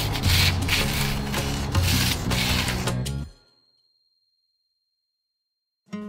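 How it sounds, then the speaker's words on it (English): Fine sandpaper rubbing along the edges and corners of a dried plaster stone finish, a steady dense scraping for about three seconds that stops abruptly, followed by silence and a brief return of rubbing at the end. "Once dry, corners and edges can be detailed with fine sandpaper."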